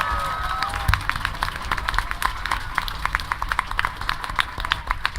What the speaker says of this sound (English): let's give a round of applause to the Canterlot Gardens staff.